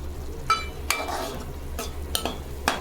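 A chicken curry base fried and stirred in a pan, with soft sizzling under several sharp scraping strokes of a spoon against the metal, close and without talk.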